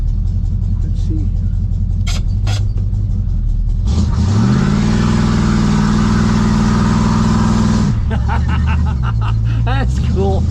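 A 1970.5 Ford Falcon barn find revs hard in one long, loud sustained burst as the driver tries to spin the tires, with idling engine before and after and people talking over it.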